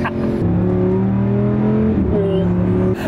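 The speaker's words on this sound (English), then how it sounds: "You want to know how fast this car is? It's that fast." A custom Lamborghini accelerates hard, its engine note rising in pitch in one loud, close surge with a brief shift mid-way before the revs climb again.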